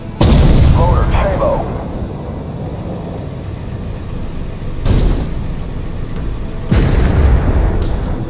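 Heavy artillery blasts boom through a battle in the tank game Armored Warfare, with sharp broadband impacts near the start and again around the middle and end, over a constant rumbling battlefield din and faint voice chatter.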